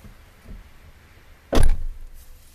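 A single solid door thud close by, a short loud slam with a brief rattle, standing out against quiet room tone.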